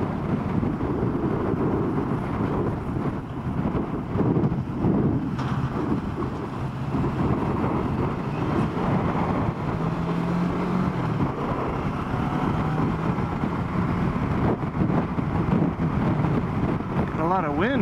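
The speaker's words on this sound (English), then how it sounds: "Wind on the freeway here today, buffeting me around." Heavy wind buffets the microphone of a motorcycle rider cruising a Colorado freeway, a constant loud low roar with gusty surges that runs the whole way, engine and road noise buried beneath it.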